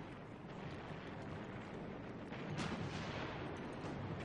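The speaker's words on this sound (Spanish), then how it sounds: "Los australianos luchan fuertemente apoyados por los disparos de los tanques estadounidenses." US tank gunfire supporting Australian troops in a Korean War battle, a dense, continuous rumble of distant firing with a heavier blast swelling in partway through.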